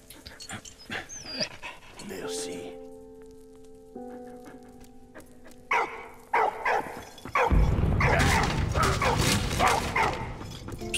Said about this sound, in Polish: Także możemy sterować też pieskiem.